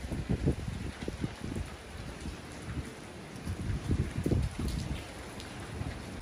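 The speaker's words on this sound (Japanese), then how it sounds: "外はまさかの暴風雨でしたね。" A heavy storm of rain and wind outside: steady dense rainfall with gusty low rumbling surges that swell and fade, continuous and without voices.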